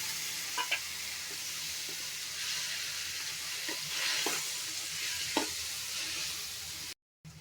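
Red tomatoes fry in a wok, a soft steady sizzle with occasional light taps and scrapes of stirring, cutting off briefly near the end.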